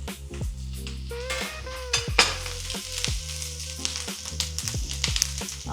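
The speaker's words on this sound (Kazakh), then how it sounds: "Енді пиязымыз бен чеснокты салғаннан кейін, оның үстіне біз сәбізімізді саламыз." Carrots tipped into a pan of frying onion and garlic and stirred, a constant loud sizzle with clattering utensil scrapes and knocks throughout, close and without voices.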